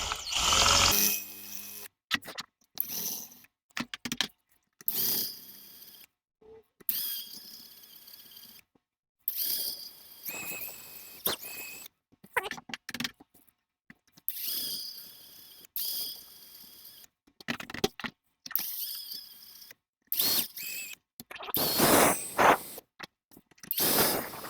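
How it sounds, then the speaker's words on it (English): A drill biting into a screw on a Hutchins 3800 orbital air filer, short bursts of grinding and ratcheting separated by pauses, loud and close, stopping and restarting irregularly. "I have no other choice but to drill out this screw so I can get this rubber piece."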